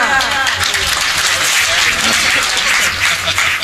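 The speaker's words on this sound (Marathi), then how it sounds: "वाजवत जा टाळ्या" Listeners at a devotional discourse keep up dense, steady applause from start to finish, loud and continuous, with voices faintly underneath.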